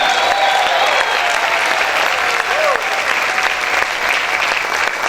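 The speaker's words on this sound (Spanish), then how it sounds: "Si yo fuera usted, estuviera aplaudiendo y celebrando esta palabra." Steady, loud applause from a church congregation during a sermon, dense clapping with scattered cheering voices that holds at an even level throughout.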